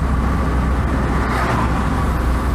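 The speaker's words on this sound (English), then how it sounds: "Of course, 4 cylinders here, so the noise isn't quite as grrr as the little Matiz." A Fiat Seicento's four-cylinder engine drones steadily while driving, a continuous close cabin rumble with road noise and no talk.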